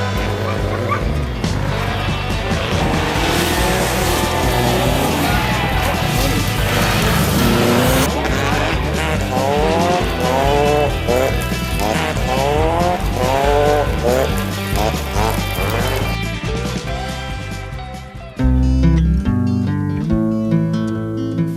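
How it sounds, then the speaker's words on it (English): Rally cars race past on a forest stage, engines roaring loud and continuous with rising and falling revs as they go by, while music plays over the top and a sharp change near the end. "I get to watch all the cars come by"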